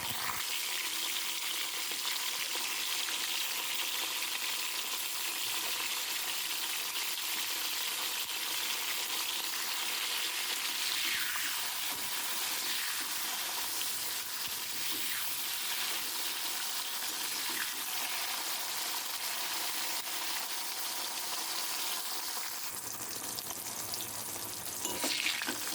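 Pointed gourd (potol) pieces fry steadily in hot white oil, giving a continuous, dense sizzle across the whole stretch, with occasional stirring and a faint watery sound near the end.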